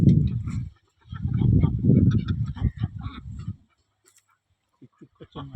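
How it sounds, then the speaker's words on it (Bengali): Ducks near a village pond surrounded by trees and haystacks give loud, close, honking quacks in two dense bursts, then fall quiet except for a few faint calls near the end. "এই হচ্ছে পুকুর, এই দেখুন অরিজিনাল হাঁস"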